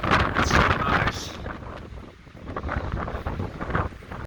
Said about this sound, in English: Still crazy windy out there